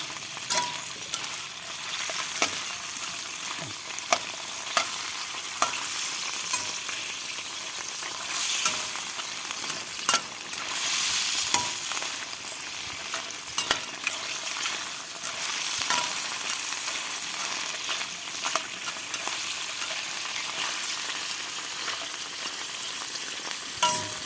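Crab frying alone in a pan of hot oil, a steady broadband sizzle with scattered pops and crackles running throughout, close and fairly loud, with occasional stirring clinks and no talking.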